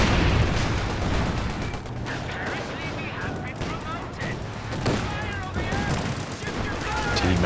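Repeated rifle and machine-gun fire crackles through a Company of Heroes 2 battle, steady and dense, with artillery-like thumps mixed in under a commentator's voice.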